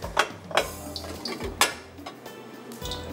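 A cooking pot clanks as it is lifted and set back down on a kitchen surface, with several sharp metallic knocks and light clatter up close.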